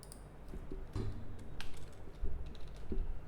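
A file name typed on a computer keyboard, a short uneven run of close keystrokes with a few heavier taps, no talking.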